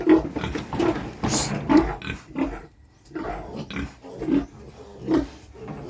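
Rough grunting and snorting from pigs in a pen, repeated in uneven bursts at close range, with a louder squeal near the start.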